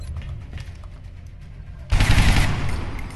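A sudden burst of gunfire erupts partway through in XCOM Long War, loud and sharp after a quiet stretch, then a noisy tail as the rifle shot rings out.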